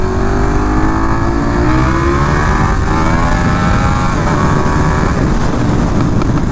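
A KTM 1290 Super Duke R motorcycle accelerating hard, its engine note climbing steadily in pitch over several seconds, loud and close with wind rush, no talk.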